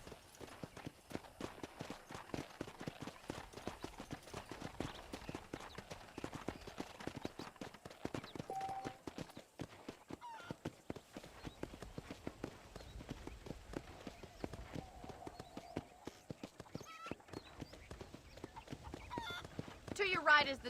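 Horse hooves in the Red Dead Redemption video game, clip-clopping at a steady walking rhythm throughout a ride around a ranch, with faint background game ambience.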